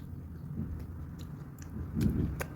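Someone bites into and chews a stuffed beef chapati close up, with soft crunching, moist chewing and a firmer bite near the end.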